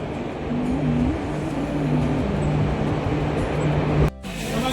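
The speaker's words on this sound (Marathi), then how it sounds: "आपली ट्रेन आलेली आहे दिवा पॅसेंजर" Diva passenger train at Ratnagiri station arrives with a loud continuous rumble and steady low horn-like tones, a brief sharp break near the end, no voices.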